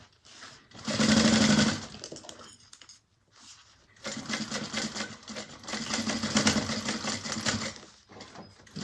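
Sewing machine back stitching over a handbag seam, a close rapid whirr in a short burst, a pause, then a longer run of stitching, with no talk.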